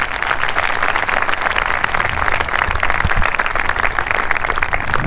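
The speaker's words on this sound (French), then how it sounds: "Je vous demande de l'applaudir très très fort, s'il vous plaît." Loud, sustained applause from an audience at a rally debriefing, dense steady clapping filling the whole stretch with no voices over it.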